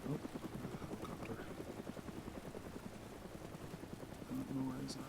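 A helicopter in the DayZ Overpoch game on Taviana chops steadily with a fast rhythmic beat, faint and muffled, running under quiet talk throughout.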